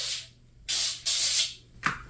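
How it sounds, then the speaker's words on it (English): Avocado oil is sprayed lightly onto the sides of a baking pan in three short bursts, each a close, breathy hiss with quiet pauses between, ending with a small clack. "I have avocado oil, so I'm just going to spray the sides lightly."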